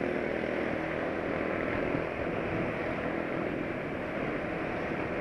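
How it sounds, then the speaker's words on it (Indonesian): Motorcycle engine held at high revs at night, a steady, continuous drone at constant level throughout, loud and close with no talking. "Nah itu si masnya jalan RPM tinggi malam-malam"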